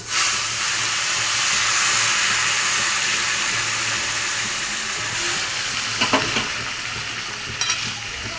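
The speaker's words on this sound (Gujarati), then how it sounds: "હવે ઉમેરીશું એકદમ ગરમ પાણી" Steady hissing sizzle as very hot water is poured into a hot pan with sugar for sevaiyan, loud and continuous, with a few brief clatters near the end.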